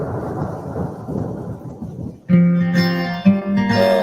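A deep thunder rumble rolls through a thunderstorm with rain, then gives way to sustained tonal sound, loud and close.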